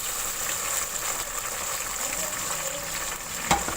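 Tomatoes added to hot oil over browned onions for a pumpkin curry give a steady, close sizzle and bubbling hiss throughout, with a brief clatter near the end.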